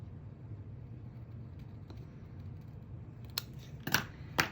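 Scissors trim small card pieces for a handmade greeting card, giving a few quiet, sharp snips near the end over a low background rumble, with no speech.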